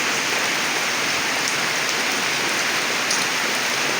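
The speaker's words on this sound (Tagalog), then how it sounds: "walang tigil sa pag-ulan" Steady, dense downpour of heavy rain in Mawab, Davao de Oro, hissing continuously across the whole stretch, loud and close with no other sounds.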